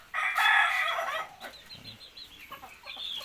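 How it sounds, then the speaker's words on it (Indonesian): An ayam ketawa rooster, the Indonesian laughing chicken breed, crows once close by: a loud, bright opening burst followed by a trailing series of short, stuttering, laugh-like notes that fade out. "ayam ketawa"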